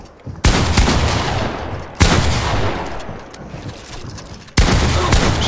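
Heavy, loud gunfire from a shooting video game blasts in sustained sprays, cutting out and restarting in three abrupt bursts, close and dominant with no talk over it.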